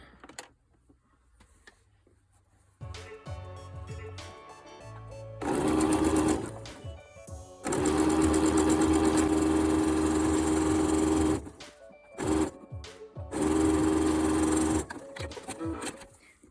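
A sewing machine running a zigzag stitch to attach elastic to a soft bra cup, adapted into a nursing bra, runs in loud sustained bursts separated by short pauses, with quieter handling sounds in between.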